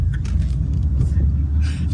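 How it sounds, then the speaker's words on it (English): Low car engine rumble steady throughout, heard from inside a moving cab, with faint voices in the background. "We're currently in the cab"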